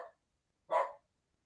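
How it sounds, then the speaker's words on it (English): A dog gives a single loud bark close by during a live open-panel discussion, with a short faint sound just before it and silence afterwards. "excuse my dog"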